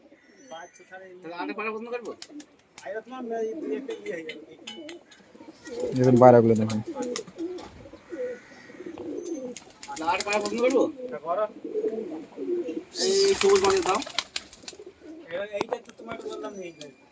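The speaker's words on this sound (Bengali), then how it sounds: "এত পায়রা আছে তোমার কাছে" Pigeons coo continuously in soft, rolling calls close by, with bursts of wing flapping and people talking over them.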